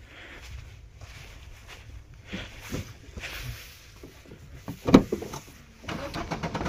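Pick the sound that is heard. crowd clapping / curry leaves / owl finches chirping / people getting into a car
people getting into a car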